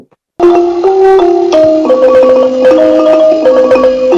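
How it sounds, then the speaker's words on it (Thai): A ranat, the Thai xylophone, is played as a solo melody. Bright, ringing struck notes step up and down in a steady rhythm, loud and close, with no talking. "นี่คือเสียงของระนาดนะครับ"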